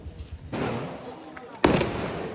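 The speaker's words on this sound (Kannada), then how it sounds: "ಇವಾಗ ಪಟಾಕಿ ಹೊಡಿತಾ ಇದ್ದಾರೆ" Firecrackers going off during a Tulsi festival celebration: a steady crackling burst begins, then a sharper, louder bang near the end, with people talking faintly around it.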